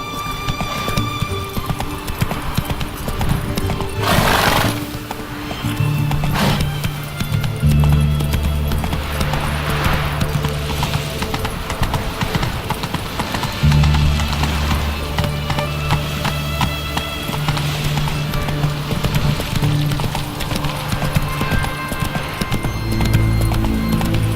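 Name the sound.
horse hooves galloping in video game The Witcher 3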